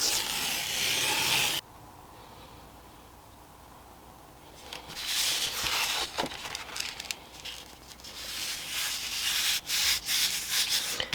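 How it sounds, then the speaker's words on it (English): Loose material is rubbed off watercolor paper, making close, dry scratchy scrubbing strokes after a short, louder opening burst, continuing in uneven repeated rubs with no talk. "I will just rub whatever is loose off to make it more secure."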